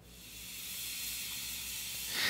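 A cymbal spins on a Spinbal spinner with a sizzle chain laid on it, giving a steady, bright, airy hiss like white noise that holds for a couple of seconds and swells a little louder at the end.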